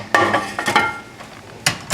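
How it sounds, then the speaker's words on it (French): A covered dish of rice being set inside a microwave, a few sharp clinks and knocks of the cover and plate against the oven interior, spaced out with quiet gaps between them. "on met dans le micro-ondes avec la cloche"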